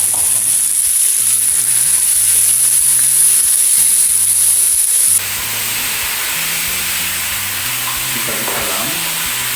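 Chicken pieces salted and laid into a hot pan for asado sizzle and fry loudly and continuously, the crackle broadening after a few seconds as more meat goes in, with faint kitchen clatter beneath.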